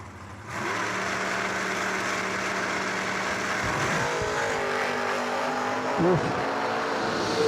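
A 1964 Chevy wagon and a Camaro, both door cars, line up at a drag strip. Their engines hold a loud, steady roar, and the pitch shifts as they rev and launch.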